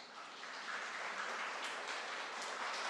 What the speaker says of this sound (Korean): 우리 축복의 박수로 환영하고 축복하겠습니다